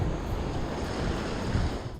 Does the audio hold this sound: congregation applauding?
no